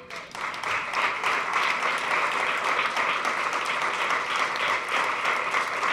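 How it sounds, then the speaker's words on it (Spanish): A church congregation breaks into loud, steady applause during a sermon, dense clapping that holds evenly for several seconds without voices over it. "Dale un aplauso, Señor"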